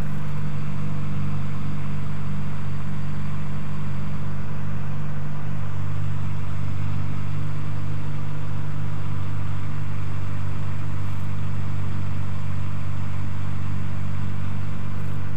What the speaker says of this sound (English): Let the airplane continue to accelerate to takeoff speed.